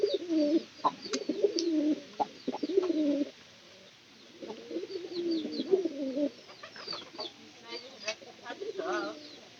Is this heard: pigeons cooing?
yes